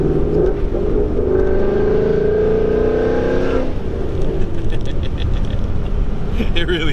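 A 2016 Ford Mustang GT with a Corsa Extreme catback exhaust revs inside a tunnel, a loud, echoing engine note rising steadily in pitch through the rev range before dropping off into a lower rumble, with a voice talking over part of it.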